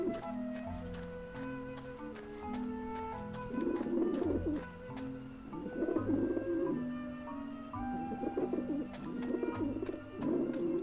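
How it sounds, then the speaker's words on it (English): Pigeons coo repeatedly in Grim Fandango Remastered, a steady run of soft, throaty calls over a looping musical background, fairly close and at moderate volume. "It's a lot of pigeons there."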